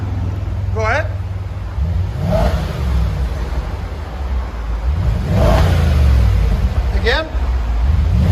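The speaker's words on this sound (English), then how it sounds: "All right, guys, this is an Audi S5. This is what it sounds like before." An Audi S5 with a 4.2L V8 on its stock exhaust revving repeatedly, a deep engine rumble swelling and falling back, with people talking over it.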